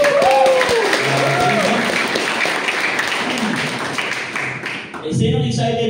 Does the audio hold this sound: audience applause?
yes